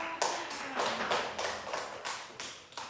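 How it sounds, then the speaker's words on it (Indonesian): A classroom gives a short burst of rhythmic clapping for a student named Rara, roughly eight or nine sharp, evenly spaced group claps over three seconds, fairly close, with no talking. "tepuk tangan untuk Rara"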